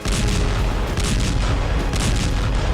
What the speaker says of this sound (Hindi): जमीन पर टैंक और तोप भीषण हमले कर रहे हैं।